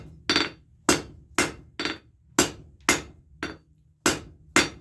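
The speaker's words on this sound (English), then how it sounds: "why I use such a lightweight hammer" Ten sharp metallic strikes of a lightweight forge hammer ring out in a steady rhythm, each hit close and bright with a short ringing decay.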